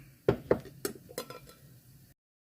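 Several sharp glassy clinks and knocks in quick succession as glass jars are filled with tomatoes, close by, followed by softer rattling, then silence.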